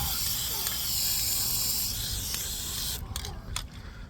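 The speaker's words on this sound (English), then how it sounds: "we're doing another round of the paint remover here" Paint remover sprayed from an aerosol can onto parts of a 1973 Honda ATC70 during restoration, a steady close hiss that breaks into a few short bursts near the end.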